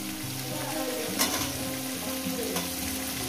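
Vegetables and cauliflower fry in a hot wok with a constant, close sizzle, broken by a couple of sharper crackles as the pieces are stirred.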